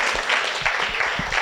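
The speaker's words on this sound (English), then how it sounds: "So give him another round of applause." An audience at an awards summit claps in a short, dense burst of applause for an award recipient, steady and close, with no voices over it.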